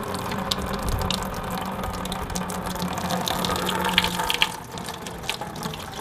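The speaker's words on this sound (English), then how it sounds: "now I'm just simply filling up my fermenter" Homebrewed chocolate milk stout pours through a colander into a fermenter, a steady close gushing and splashing of liquid with a few small clinks.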